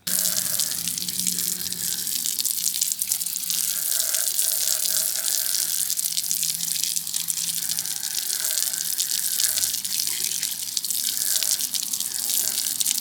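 Steady running water rinsing soap and detergent off a cleaned car wheel and tire, a continuous even gush from a hose or tap held close throughout.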